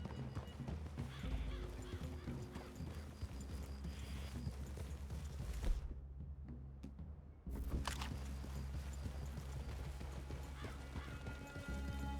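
Horses walking in the Red Dead Redemption 2 game world, with soft hoof clops and shuffling over a low rumbling background, faint and steady, pausing briefly midway before resuming.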